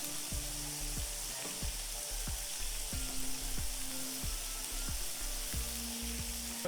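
Buttered bread and smash burgers sizzle on a flat griddle with a soft, steady hiss, punctuated by regular scraping and tapping of a metal spatula on the hot surface, with no talking.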